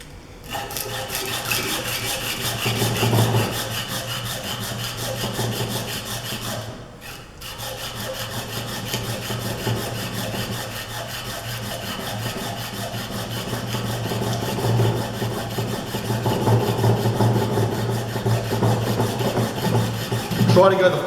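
Coarse 80 grit sandpaper on a block rubs back and forth along a piece of steel being shaped into a drill gauge, a continuous loud rasping scrape with steady strokes and a brief pause midway.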